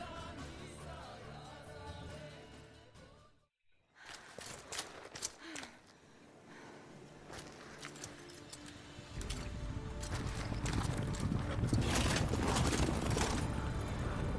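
Horse hooves clip-clop in The Witcher 3 as a furry horse moves, blended with a busy, fairly loud game soundscape that swells and grows denser toward the end.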